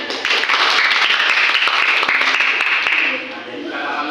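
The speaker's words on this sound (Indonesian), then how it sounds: "tepuk tangan dulu ini" Students in a classroom clap together at the teacher's request, a loud, dense burst of applause that fades near the end while some voices murmur underneath.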